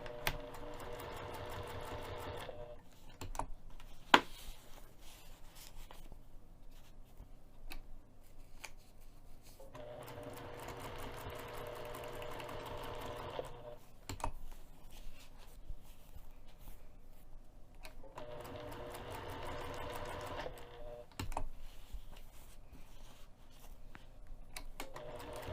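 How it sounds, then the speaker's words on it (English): A sewing machine stitches clear vinyl to foam with a 1/8-inch seam allowance, running in three steady bursts of rapid mechanical stitching separated by short pauses, close and moderately loud with no talk. "I'm going to sew this clear vinyl to the foam using 1/8 of an inch."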